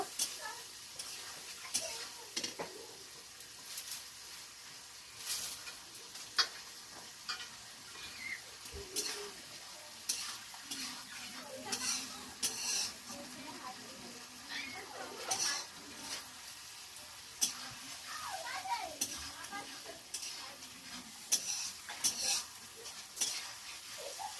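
Mustard paste and spice paste are stir-fried in a pan, with a soft sizzle under frequent spatula scrapes and clinks against the metal, and a voice speaking at times.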